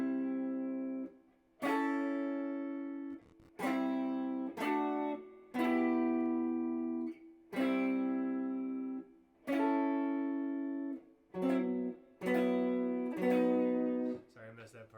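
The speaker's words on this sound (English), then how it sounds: "So these are higher chord voicings." An electric guitar plays a sequence of higher chord voicings, each chord ringing clearly for a second or so before being cut off, in a measured, repeating pattern with no talking.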